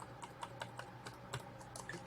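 Quiet, close clicking on a computer keyboard as copy and paste shortcuts are pressed, a loose, irregular series of keystrokes over faint room hum.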